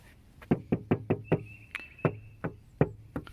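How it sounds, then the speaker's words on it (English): Knuckles rap on a BMW E46 ZHP body panel in a quick burst of about six knocks, then several slower, spaced knocks, close and dull-sounding. "I usually do a Bondo test, which is just knocking on the car"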